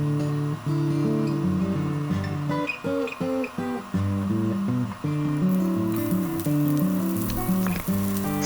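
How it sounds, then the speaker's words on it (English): Garlic, chilies and black pepper sauté in olive oil in a medium sauté pan over medium-high heat, giving a steady, close sizzle that lasts throughout under a bed of tonal sound. "Saute garlic, chilies, and your black pepper."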